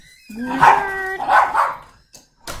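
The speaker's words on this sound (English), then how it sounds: "my dogs are going crazy" Indoor dogs barking in an excited burst, several loud close barks in two quick clusters, then a short pause and another sharp bark near the end.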